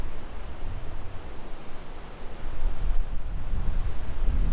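Ocean waves roll in along a coast with mountains in view, a steady broadband wash of surf and wind buffeting the microphone, growing slightly louder toward the end with no voices.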